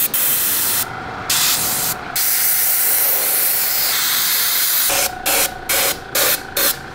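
An aerosol can sprays the world's blackest paint onto an iPhone: a long, loud continuous hiss, then a string of short bursts, close and alone.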